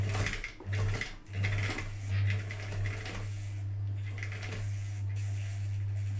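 Sewing machine stitching fabric, a steady low motor hum with a fast mechanical chatter, broken by short pauses early on and then running continuously, fairly faint and with no talking.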